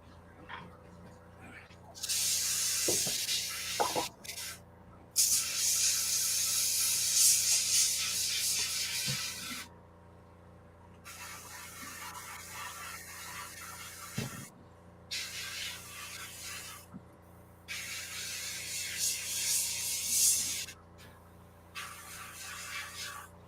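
An airbrush sprays paint during a memorial paintup, giving long steady hissing bursts several seconds each, separated by short pauses, with scattered faint knocks between.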